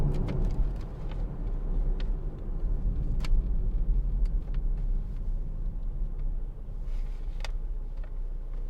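Steady low road rumble and engine hum from a Hyundai i40 1.7 CRDi diesel car driving smoothly, continuous and even throughout with faint tyre noise and a few light clicks.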